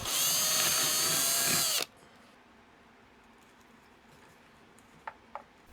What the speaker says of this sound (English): I needed to drill an additional hole for the wires to feed through easily.